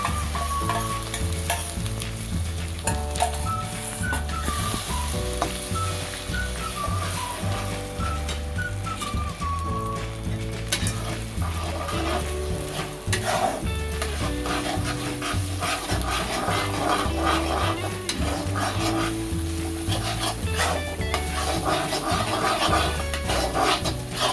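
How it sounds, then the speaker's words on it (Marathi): Beaten egg and coriander are stir-fried in a pan for egg fried rice, with continuous scraping and sizzling under steady, prominent background music. "अंडे सगळे परतून दिलेत आपले व्यवस्थित"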